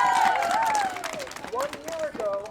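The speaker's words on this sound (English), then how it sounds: "Give them a round of applause." Elementary school students clap and cheer at a school election rally, a ragged, mid-distance burst of hands and crowd noise mixed beneath a clear voice talking over a microphone.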